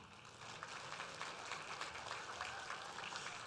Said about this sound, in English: Let's give a round of applause to our ESP judges, Maggie Caballero